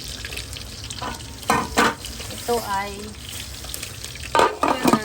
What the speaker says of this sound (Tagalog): Narinig niyo yun doon, nagpiprito ako ng isda.